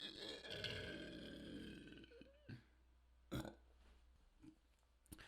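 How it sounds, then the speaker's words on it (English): A long, deep, rumbling burp up close, followed by a few short clicks and knocks in an otherwise quiet room. "I guess I can burp on command."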